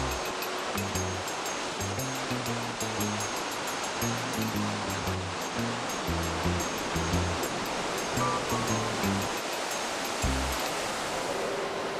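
The Dudh Kosi river in the Everest region of Nepal rushes steadily, a loud continuous roar of turbulent water with low rumbling churn beneath it.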